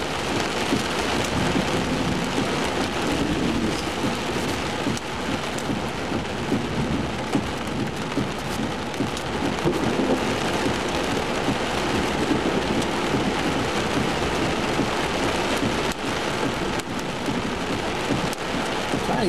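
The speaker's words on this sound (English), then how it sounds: "We got hail popping everywhere." A severe thunderstorm drops hail and heavy rain in a dense, continuous clatter on surfaces. Thunder rumbles underneath throughout the long, steady downpour.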